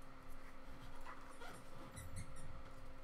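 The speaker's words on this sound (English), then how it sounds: "sounds like my dog's in the hallway getting his energy out for the night" A dog moves around in a hallway at night, giving faint scuffs and a soft whimper against a steady low hum and background noise, with no one talking.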